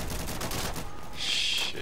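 Rapid gunfire from the multiplayer video game Insurgency, a brief dense burst of close, loud shots fading into a hissing ringing tone.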